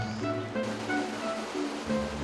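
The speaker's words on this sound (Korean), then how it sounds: "쏟아지는 빗소리가 지리산을 깨웁니다." Heavy rain pouring down on Jirisan mountain makes a dense, steady hiss that fills the whole clip, with soft sustained musical tones layered over it.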